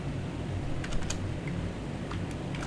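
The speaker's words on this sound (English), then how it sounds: "I'm gonna type it." Keys tapped on a computer keyboard while entering data into a spreadsheet, a run of light, irregular clicks over a steady background hiss, no speech.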